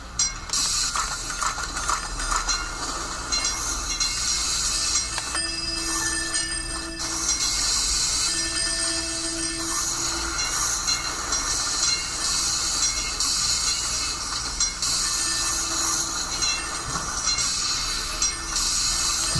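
Trams run in the Cities in Motion city-building video game, with a steady rolling rail hum, faint metallic wheel squeals and hiss continuing throughout, with no speech.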